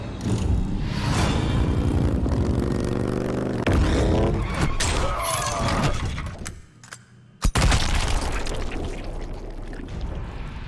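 A Mortal Kombat 11 shotgun fatality erupts in dense, crunching blasts and shattering gore, with booming impacts, a brief lull, then a sharp explosive hit and continued rumbling mayhem.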